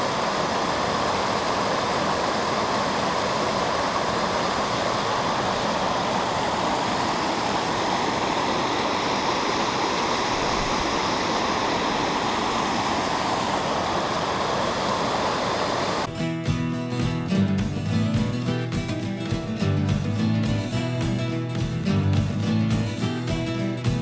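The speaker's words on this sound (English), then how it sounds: "Made it to Katy Falls." Katy Falls on East Caney Creek gives a steady, broad rushing roar of falling water, continuous and even for about sixteen seconds before music takes over.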